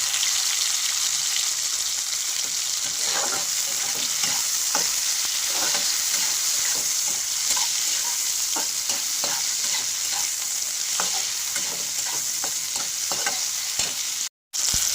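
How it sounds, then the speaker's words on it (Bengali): Onions frying in a pan for a mustard-poppy katla fish curry, stirred with repeated scrapes and taps over a constant close sizzle, followed by a brief dropout near the end. "ভালো করে নেড়ে একটু লাল করে ভেজে নেব দেখুন পেঁয়াজগুলো একটু ভাজা ভাজা মতন হয়ে গেছে"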